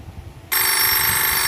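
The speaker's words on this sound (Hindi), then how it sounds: "मोबाइल की ध्वनियाँ" A mobile phone ringtone cuts in abruptly after a brief quiet moment, then rings on loudly and steadily as a bright electronic tone.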